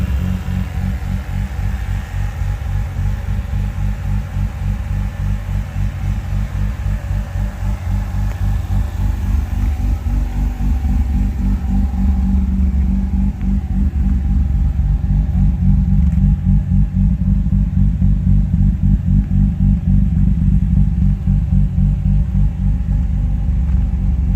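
A Mazda RX-8 with a bridgeported rotary engine, automatic, with its factory air pump still fitted, idles loudly and steadily with a deep, lumpy, choppy low rumble throughout.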